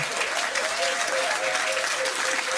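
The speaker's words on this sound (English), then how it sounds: "Give them a round of applause." A room of people at a pub trivia quiz breaks into brief applause, steady clapping with a faint hum and scattered voices underneath.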